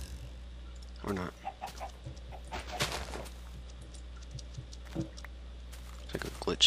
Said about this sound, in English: Hey, I found another chicken.